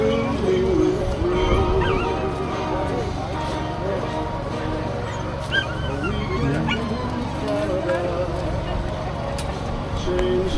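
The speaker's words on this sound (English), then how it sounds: "little dog in a cage here" A small dog shut in a cage on a busy Whitby street yips, barks and whimpers through steady crowd noise and nearby voices.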